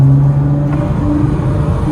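A Nissan GT-R fitted with an HKS intermediate pipe and Titan exhaust rumbles loudly and steadily at close range, a low engine drone holding on a mountain pass road.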